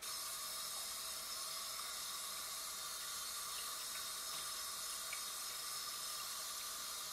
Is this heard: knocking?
no